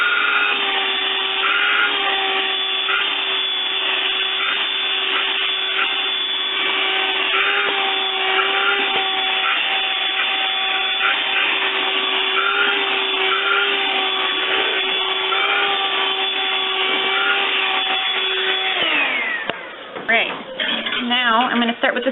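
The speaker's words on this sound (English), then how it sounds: "I do one more quick vacuum to get any excess hair off." A vacuum runs steadily at close range to pull excess loose hair from an animal's clipped skin before a presurgical scrub, its motor whine holding even for about nineteen seconds before cutting off into brief handling clatter.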